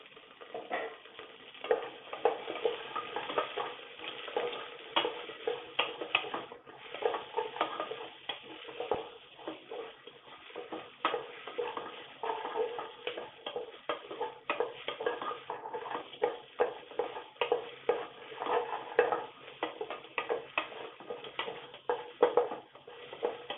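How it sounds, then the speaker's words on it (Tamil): Chopped onion fries in a pan with popped mustard seeds and curry leaves, a crackling sizzle broken by repeated stirring scrapes and light ticks at close range, with no talking. "கருவேப்பிலையும் கடுகும் பொரிஞ்சதுக்கு அப்புறம் நம்ம ஆனியன் சேர்த்துடலாம்."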